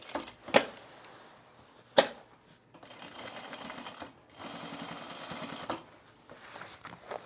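Sewing machine stitching a pair of men's cargo shorts: two sharp knocks, then steady whirring runs of rapid stitching in bursts, close up with no talk.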